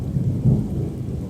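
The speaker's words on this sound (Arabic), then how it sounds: "أمطار شديدة" Heavy rain with rolling thunder in Medina, a low rumble over steady rainfall, close and fairly loud.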